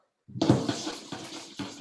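Cold tap water, a cup and a half, poured into a cooking pot in a home kitchen; a steady, close splashing pour starts abruptly and runs on with slight surges, no talk over it.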